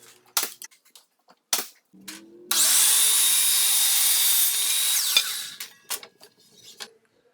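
A power tool, likely a drill or driver, whines steadily for about two and a half seconds while the fireplace mantel header is fastened to its frame, bracketed by close wooden knocks and handling clatter.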